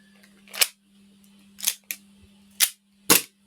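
A gas-powered airsoft sniper rifle fires several very quiet shots, five short sharp pops spaced irregularly over a low, steady hum.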